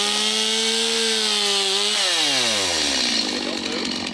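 A chainsaw cuts through a fallen tree after a hurricane, the engine whining steadily at first, then bogging down and dropping in pitch as the bar bites into the wood, close and loud.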